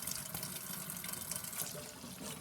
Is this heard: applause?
no